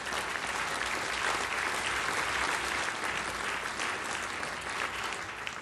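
Steady, dense audience applause at a German cabaret comedy show, loud and continuous throughout with no talk over it.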